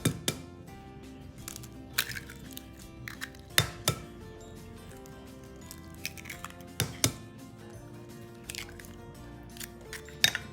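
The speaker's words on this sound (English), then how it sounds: "and crack in 3 eggs." Three eggs are cracked into a bowl of chocolate cake batter made with vegetable oil and water, giving a few quiet, sharp cracks and clinks spread out over a soft kitchen background.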